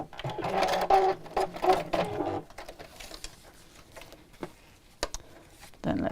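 A sewing machine stitches along a zip in fabric, running in quick mechanical bursts with short pauses and stops, close and fairly loud, with no talking over it.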